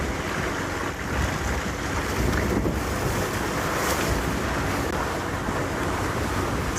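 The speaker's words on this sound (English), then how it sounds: "I can hear the water on the tires" Water splashes and hisses against the tires of a safari vehicle driving through wet ground in the evening, a steady broadband wash with wind rumble and no clear breaks, loud and close.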